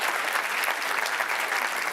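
Steady applause from an audience at an evening session of a summit event, dense and continuous clapping filling the room with no voices rising above it.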